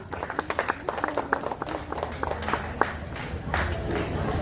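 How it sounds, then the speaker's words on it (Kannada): At a school reunion and teacher-honouring event, an audience claps to welcome the guests. Sharp claps start quick and distinct, then blend into a steadier wash of applause. "ಎಲ್ಲರೂ ಜೋರಾದ ಚಪ್ಪಾಳೆಯ ಮೂಲಕ ಅತಿಥಿಗಳನ್ನ ಸ್ವಾಗತಿಸೋಣ"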